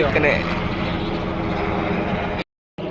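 A helicopter passes low and close overhead, its loud, steady broadband roar filling the scene almost continuously before a brief drop to silence near the end, then resuming.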